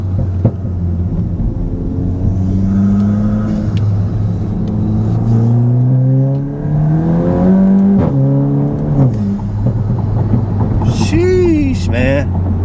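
Volkswagen MK8 GTI driving hard and accelerating, a loud, steady engine drone with rising and falling pitch sweeps as the revs climb through gears, close and continuous for the whole stretch.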